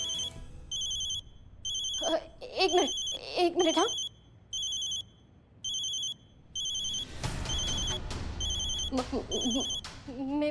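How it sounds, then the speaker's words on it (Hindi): A telephone rings in a repeating pattern of short electronic bursts on an indoor set, loud and close, while people talk over and between the rings. "मेरी माँ का फोन है।"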